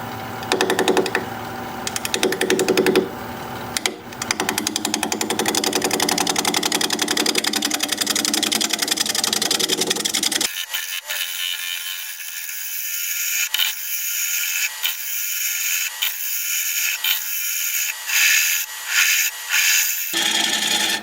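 A wood lathe spins a bowl as a tool thins its wall, with a loud continuous grinding whir that drops into a steadier, lighter scraping tone halfway through, close and unbroken, and no speech.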